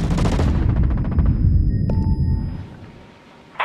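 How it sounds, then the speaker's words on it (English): Dense rapid gunfire rattles loudly for about two seconds in Tom Clancy's Ghost Recon Breakpoint, then a single sharp shot rings out before the noise fades to a quiet tail. "I hear gunfire."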